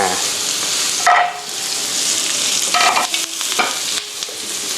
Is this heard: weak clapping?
no